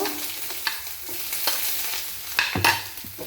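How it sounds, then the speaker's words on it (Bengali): Chopped onion hits hot oil with a bay leaf and whole cumin, crackling and sizzling steadily while a spoon scrapes and stirs the pan in a few louder strokes. "তারপর এখানে পেঁয়াজ কুচি দিয়ে দেব"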